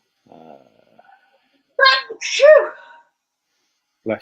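One sharp, close sneeze bursts out after a quiet murmur, followed by a short voice at the end.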